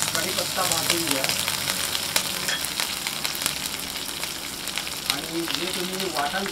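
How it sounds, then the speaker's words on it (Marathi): Curry leaves roast in hot oil in a frying pan over a low gas flame: a loud, dense, continuous sizzle and crackle with scattered sharper pops, close and steady throughout. "कढीपत्ता भाजून घ्या"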